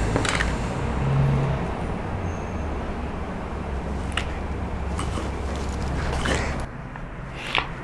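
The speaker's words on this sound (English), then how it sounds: "That's the sound of New York City." New York City street traffic gives a steady, low, distant rumble with a few brief louder passing sounds, fairly faint and continuous throughout.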